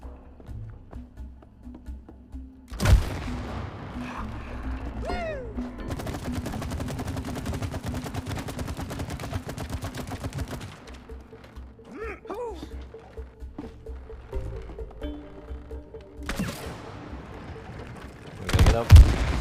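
Gunfire in the co-op video game It Takes Two: loud bursts of rapid shots with mechanical clanks and creaks between them, while players talk throughout.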